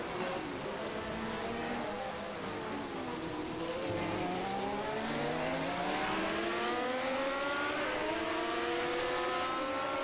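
Ferrari V12 engine of a 1971 Formula One car at the Canadian Grand Prix, screaming loudly and steadily at high revs with rising harmonic sweeps as it accelerates through gears, a continuous near roar over race-track ambience.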